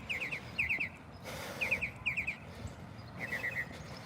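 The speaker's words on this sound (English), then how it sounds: "Aren't the birds chirping a beautiful sound?" Small birds chirping outdoors on a morning walk, giving quick clustered trills of three or four high notes that repeat several times over faint background ambience.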